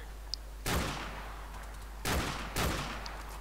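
Gunfire in Call of Duty: Modern Warfare Remastered, three loud broadband shots spaced apart over a low steady hum, with faint background sounds between them.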